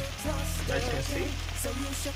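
A covered pot of food bubbles and sizzles on the stove during fried rice cooking, a faint steady crackling simmer with low hum underneath, heard close and without talk.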